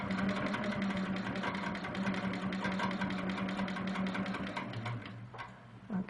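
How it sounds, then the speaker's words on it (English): A sewing machine stitches a quilt block in one continuous run, a fast, even mechanical whir heard close by and fairly quiet with no talking. "I'm going to stitch all the way to the base of that until my foot hits the edge of that"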